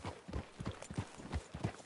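Horses' hooves clip-clop at a walking pace through a wooded clearing, a soft steady run of hoofbeats at moderate distance with no talk.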